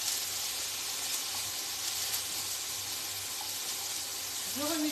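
Zucchini and trout frying in a pan while being stirred, a steady soft hiss of sizzling oil running throughout, close and even, with faint kitchen sounds.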